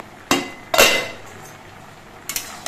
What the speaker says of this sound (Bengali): পাঁচ মিনিট পর আমি কড়াই ঢাকনাটা খুলে নিচ্ছি